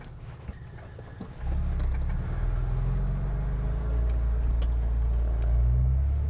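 An off-road vehicle with both differential lockers engaged climbs uphill, its engine rising from a low idle into a loud, sustained labouring drone with slight surges, close by.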